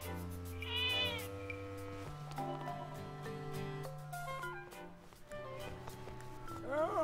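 A cat in the video game Zelda: Echoes of Wisdom gives two short meows, one early and one at the very end, over continuous in-game music.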